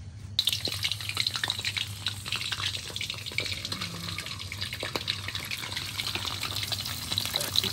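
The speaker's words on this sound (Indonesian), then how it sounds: "sebelum kita masak Maggi, kita goreng ikan dulu" Fish fries in a pan with a continuous crackling sizzle, close and steady, with scattered pops and a faint low hum underneath.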